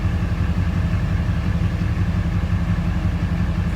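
An old gas Chevy truck and a two-wheel drive Ford strain their engines together, making a loud, steady, dense low rumble that holds without a break and has no voices over it.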